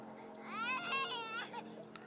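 A baby cries in a horror video game, a single wavering wail lasting about a second over a steady low background hum, with faint game sounds around it.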